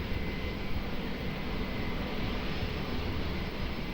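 An aircraft takes off at Lisbon Airport, a steady, dense engine roar holding constant throughout with no talk.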